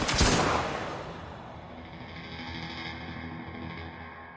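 A single sharp gunshot blasts at the very start of a 2020 Hindi police film scene (Class of 83), then rings out in a long echoing decay with no talk over it.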